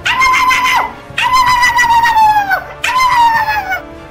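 A dog in the video game GTA 5 gives three long, loud, wavering howls that slide down into whimpers, each separated by a brief pause.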